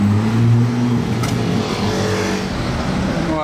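A Ferrari Testarossa with old French plates drives past on a Monaco street. Its engine note is loud and close and fades slightly as the car goes by, with traffic noise around it.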